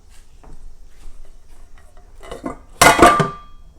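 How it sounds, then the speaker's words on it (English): A knife scrapes and clinks against a baking dish while spreading topping over blueberry cobbler, with soft scraping first and then a louder burst of metallic clatter near the end. "And then I'm going to use my knife, spread it out on top."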